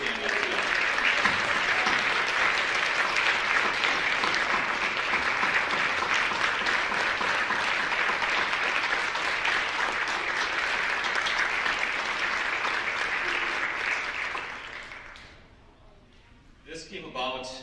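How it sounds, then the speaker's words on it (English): At a spring showcase, a crowd gives club staff long, sustained applause, loud and even for about fifteen seconds before fading away, after which a voice begins speaking. "Please give a big, big round of applause to our staff."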